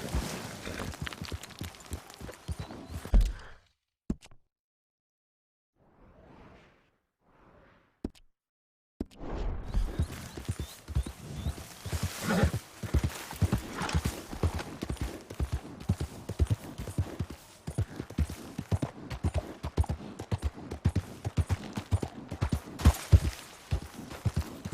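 Horse hooves galloping in the video game Red Dead Redemption 2, rapid close clip-clop beats at a steady pace, broken by a few seconds of near silence and faint sounds before the gallop resumes.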